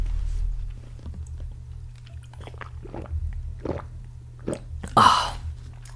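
Close ASMR eating and drinking with strawberry and kiwi water: soft wet squishes and chewing, a few sips, and one louder slurp near the end over a low hum, no talking.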